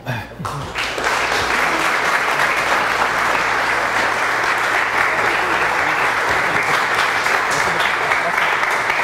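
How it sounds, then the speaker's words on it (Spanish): Applause at a colloquium on archaeology in Puerto Vallarta, a crowd breaking into loud, sustained clapping after a brief quiet start, dense and steady to the end. "Un aplauso."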